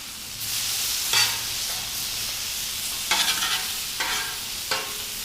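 Chicken hot wings sizzle loudly on a Blackstone griddle as they are flipped, with several sharp scraping spatula strokes over a constant close frying hiss.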